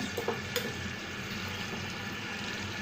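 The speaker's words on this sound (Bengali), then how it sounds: "পাতিলে তেল দিয়ে দিয়েছি এখন পেঁয়াজ পাটা দিয়ে দেব" Onion paste fries in oil in a pot with a steady, full sizzle, and a couple of light stirring scrapes come early on, close and continuous with no voices.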